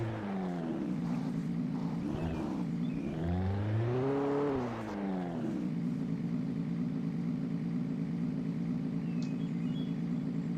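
A bulldozer engine in the video game Alan Wake drives with a steady low rumble and a rising, falling revving surge near the middle, loud and continuous, with no talking.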